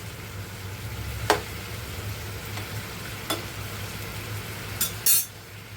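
Sprouted moth beans sautéing in hot oil with onion give a steady, soft sizzle throughout, broken by a few sharp clicks of a spoon against the pan.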